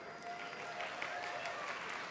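Audience applause fills a BlizzCon hall during a StarCraft II multiplayer event, steady clapping heard from a distance at low level with no talk over it.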